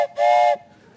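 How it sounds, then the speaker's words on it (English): A single short, loud blast of a train whistle, a breathy steady tone lasting under half a second, then quiet. "brought this train whistle"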